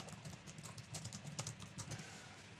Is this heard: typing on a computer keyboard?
yes